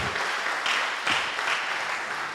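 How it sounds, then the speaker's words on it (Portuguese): Church congregation applauding the Lord during a Portuguese-language service, a dense steady wash of many hands clapping at moderate level, sustained throughout with no voices. "Você pode aplaudir o Senhor?"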